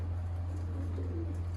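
Sialkoti chuhay pigeons kept for sale coo in low, repeated calls over a steady background hum, with no talking.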